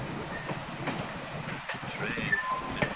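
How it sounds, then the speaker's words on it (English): An old wooden train with carriages runs along a short track at a rail ale festival, a soft rumble and clatter of wheels, fairly close and steady, with a few sharper clicks. "train with carriages."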